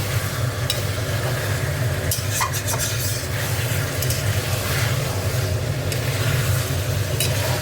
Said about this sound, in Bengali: দেখো, ভালো করে মাংসটা ভেজে নিচ্ছে পেঁয়াজের সাথে।